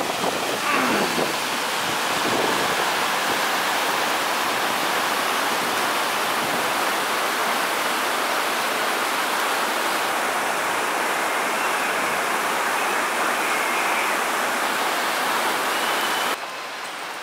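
River rushing over the rocks at Amnicon Falls in the woods of northern Wisconsin, a steady, loud broadband roar of falling water that holds unbroken throughout, with no talk.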